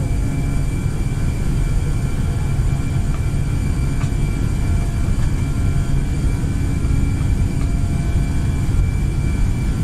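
Airbus A320 jet engines spooling up for takeoff in a flight simulator game, a loud, steady broadband roar with a faint high whine, continuous and unbroken, no talk.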